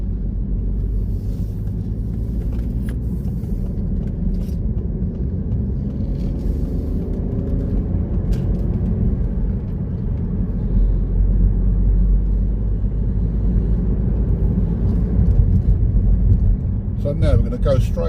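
Car engine and road noise carry on as a steady low rumble while the car is held back at a roundabout and then driven on, with a voice talking over it throughout.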